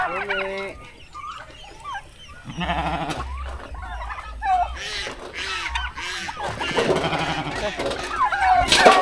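Anglo-Nubian goats bleat repeatedly on a duck farm, their calls mixed with chickens and other fowl in a busy, close-up barnyard chorus with rustling and clatter.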